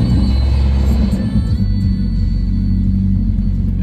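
A car engine fitted with mechanical cams rumbles at a steady, loud idle after firing up on a cool day, a deep continuous drone with no throttle changes and no talking.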